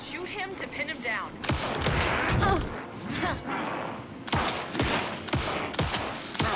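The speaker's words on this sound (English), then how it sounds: "Shoot him to pin him down." Gunshots from firing at an enemy in Alan Wake 2 ring out in sharp, loud bursts, several spaced cracks with rapid volleys, under excited voices and game sounds.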